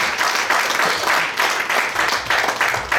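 A church audience applauds loudly, a dense continuous wash of clapping that swells in waves throughout, with no voices over it.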